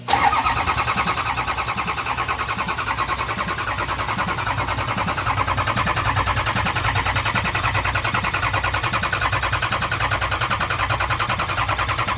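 A 6.0 Powerstroke diesel engine cranking over on the starter to build oil pressure, a loud, fast, even mechanical chugging that runs continuously without catching, close and alone.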